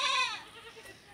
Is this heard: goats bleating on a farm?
yes